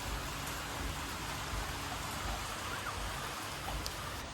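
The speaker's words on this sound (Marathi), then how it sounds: "काही पाऊस काही थांबच नाही" Heavy rain pours steadily at a farmhouse holiday home with a pool, a dense, continuous hiss of drops drumming on surfaces close by, unbroken for the whole stretch with no voices.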